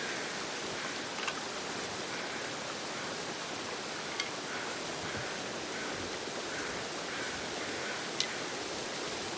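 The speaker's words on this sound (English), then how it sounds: "Hearing that almost frozen waterfall really makes me feel extra cold." An almost frozen waterfall in The Long Dark video game makes a constant loud rushing hiss of falling water with no breaks. A few faint clicks sit on top of the rush.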